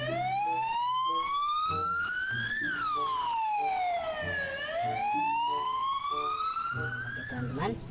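Toy ambulance siren wailing in rising and falling sweeps, close and steady, with a child's toy melody and a voice speaking underneath.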